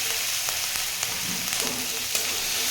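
Chopped garlic cloves sizzle steadily in a hot pan, a continuous frying hiss with small crackles and pops throughout, close and fairly loud with no talking.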